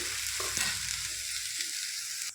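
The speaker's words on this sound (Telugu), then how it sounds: "ఇప్పుడు మళ్ళీ మరి కొంచెం ఆయిల్ ఒక వన్ స్పూన్ వేసుకుందామండి వేసుకొని ఆనపకాయ ముక్కల్ని కొంచెం ఉడికించుకోవాలండి" Bottle gourd pieces sizzle steadily in a spoonful of hot oil in a pan, a close, continuous frying hiss with a few soft stirring bumps, lasting only a couple of seconds before easing off.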